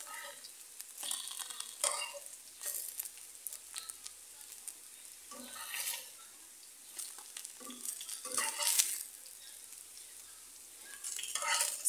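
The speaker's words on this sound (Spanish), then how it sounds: "Ya se está cocinando mi arroz y yo sigo friendo mis tortitas" Steady sizzling of tortitas frying in a pan, crackling and spitting in bursts with occasional stirring noises, fairly close and no voices.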